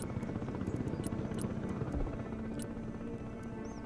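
Mi-24 Hind attack helicopter rotors in Broken Arrow chop rapidly and steadily, a loud continuous thudding drone with faint higher clicks over it.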